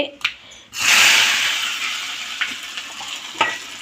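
A loud hiss erupts as tempering spices hit hot oil in a tempering ladle for sambar, sizzling strongly then gradually settling, with a few metallic clinks of the ladle.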